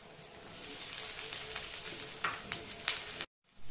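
Peas frying with chopped onions and green chillies in a hot pan, giving a soft, steady sizzle with a few brief crackles near the end before a sudden cutoff.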